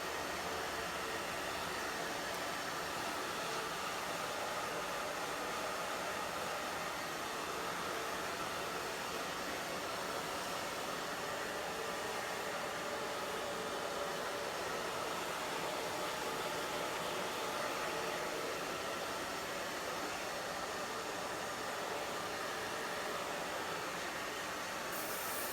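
Hair dryer fitted with a diffuser blowing air through hair, a steady broadband whoosh holding at an even level throughout with no talking.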